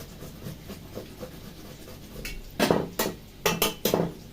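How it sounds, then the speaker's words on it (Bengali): An onion is grated by hand, first as soft scraping rubs, then several louder close rasping strokes and knocks toward the end, with no talking. "পেঁয়াজটা ঘষে নিচ্ছি"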